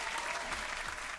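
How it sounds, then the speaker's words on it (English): A short burst of applause sound effect, dense clapping for just over a second that fades at the end, with a faint low voice murmur beneath it. "We're gonna give you a clap on that one."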